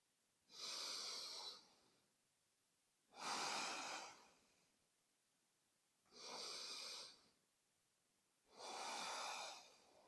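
Four slow, deep breaths come during a yoga session held in downward facing dog, each a soft, airy rush of inhale or exhale, close to the mic and evenly spaced by quiet gaps.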